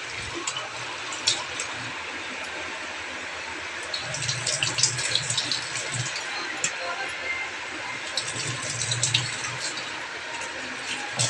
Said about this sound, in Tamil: மாம்பழத்தை நல்லா கழுவி எடுத்துக்கலாம்